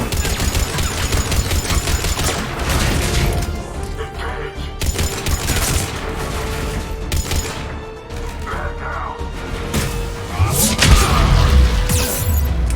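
Enemy gunfire in the Mass Effect 3 video game, dense and continuous with repeated bursts and booms over game music and effects, a voice speaking at moments.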